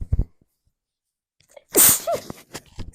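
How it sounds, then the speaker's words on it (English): A single loud, close sneeze bursts out after a brief intake of breath, followed by a few faint sounds, with no speech. "I think I'm going to sneeze."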